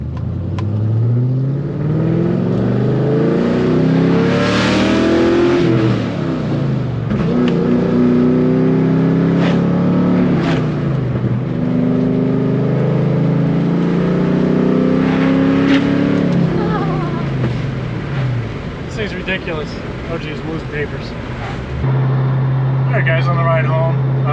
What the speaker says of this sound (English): This exhaust is stupid loud.